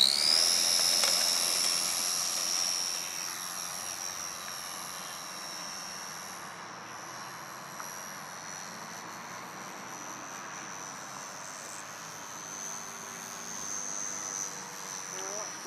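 A radio-controlled Cessna model airplane with a tail wheel makes its maiden flight, its small electric motor giving a steady high whine that stays fairly constant and slightly distant across the whole stretch.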